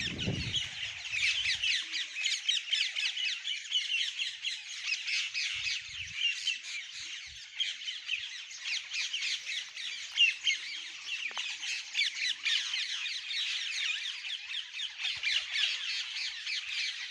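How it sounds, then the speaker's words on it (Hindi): Parrots feeding on scattered grain alongside pigeons at Vanshivat in Mathura fill the air with a dense, continuous chorus of shrill squawks and chatter, steady and unbroken throughout. "तोते और कबूतर"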